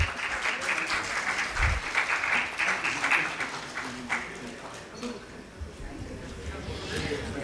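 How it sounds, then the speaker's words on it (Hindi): Audience applause at an honouring ceremony during a release event, a dense steady wash of clapping lasting throughout at moderate level, with voices mingling underneath. "जोरदार तालियां।"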